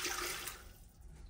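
Water pours into a coffee machine's reservoir, a bright close splashing rush that fades away after about half a second, leaving a quieter trickle.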